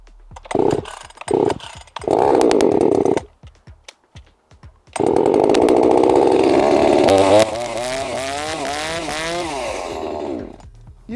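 Someone starts a Dnipro-M DSG 25H petrol chainsaw with the choke pulled: several sharp starter-cord pulls, then the engine catches, roars loudly up close and revs up and down before settling.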